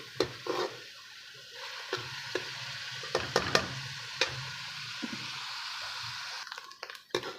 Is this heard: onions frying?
yes